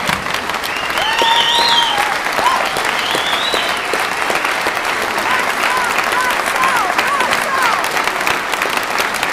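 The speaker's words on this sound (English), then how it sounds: "Let's give him a warm round of applause" Loud, sustained applause fills a hall at a political announcement of a State Senate run, with a few shouts and cheers rising over the dense clapping throughout.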